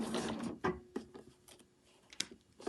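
A sewing machine makes short back stitches on a fabric sewing machine cover, with brief mechanical bursts and ticks separated by pauses.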